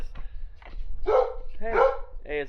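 A dog barks close by during a vintage camper black tank replacement, giving about three loud, separate barks that rise in pitch over a quiet background.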